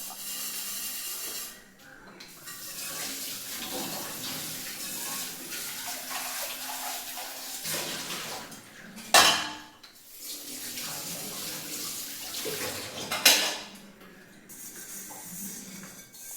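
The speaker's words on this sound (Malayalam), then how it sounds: "വന്നുടനെ തന്നെ കിച്ചണിലേക്ക് കയറി കുറച്ച് പാത്രങ്ങൾ കഴുകാനുണ്ടായിരുന്നു" Dishes washed under a running tap at a kitchen sink: continuous close water flow with two sharp clatters of pots and plates, and brief pauses where the tap stops.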